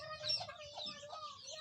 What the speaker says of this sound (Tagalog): May manok ka dun, Kab?